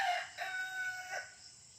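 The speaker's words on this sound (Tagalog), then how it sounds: "yung tilaok ng mga manok" A rooster crows on a quiet Philippine farm in the afternoon, a faint, somewhat distant call with rising and falling pitch, followed by softer answering crows and clucks.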